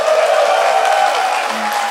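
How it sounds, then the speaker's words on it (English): Applause rolls through a DEF CON 20 conference audience as a dense, steady patter of clapping from a large crowd, continuous and fairly loud across the moment. "Please clap for that."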